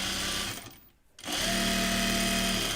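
A sewing machine stitches in a two-piece sleeve on a Kelly Anorak jacket, whirring loudly nearby, stopping for a brief pause, then running again steadily.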